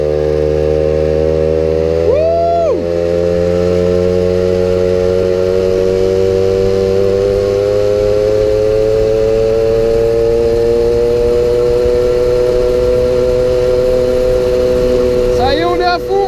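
A 1997 Peugeot 103 RCX LC liquid-cooled moped engine held at full throttle, a steady high-pitched buzzing whine that climbs gradually over the run, loud and continuous throughout.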